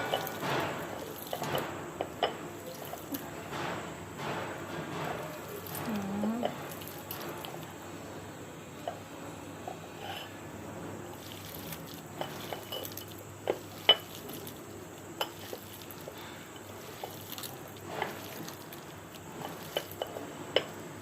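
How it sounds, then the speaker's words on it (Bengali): Boiled raw banana is mashed by hand with mustard oil into a bharta, giving soft wet squishes and irregular clinks against a dish, fairly close and quiet. "তারপরে এখন এই যে ভর্তাটা কসলাই কসলাই নিব"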